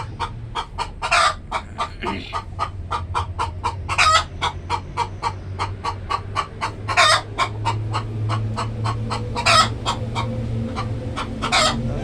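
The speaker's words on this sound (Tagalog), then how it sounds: "Ang ingay ng ating inahing manok." A hen clucks nonstop in a rapid, steady rhythm, with louder bursts every few seconds over a low background hum.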